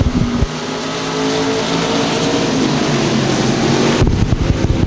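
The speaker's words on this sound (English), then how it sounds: "Good 5-car battle at the front of this heat race here for your Heiner Repair Service IMCA stock cars." IMCA stock cars race in a heat race at Thunder Hill, their engines forming a loud, continuous roar with wind buffeting the microphone and a car passing close near the end.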